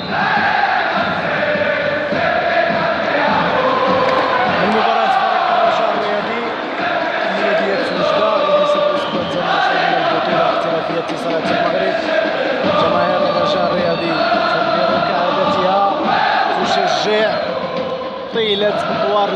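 Raja Casablanca football fans fill Stade Donor in Casablanca with a dense, steady roar of chanting and cheering that runs unbroken throughout, with a commentator talking over it.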